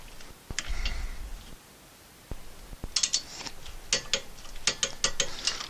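Ratchet wrench loosening the rear brake bolts on a Honda CR-V, starting with a few faint knocks and then clicking in quick, close pawl bursts that grow more frequent toward the end.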